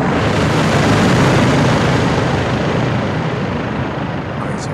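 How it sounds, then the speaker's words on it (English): In Call of Duty Modern Warfare II, an incoming helicopter makes a loud, dense rumbling roar that fills the clip and eases slightly toward the end, with no speech. "Got a heli incoming."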